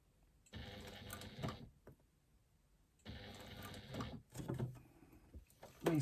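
A sewing machine stitching a leather-style wristlet runs in two bursts of rapid mechanical whirring, separated by a quiet pause, with small clicks and handling knocks at the end.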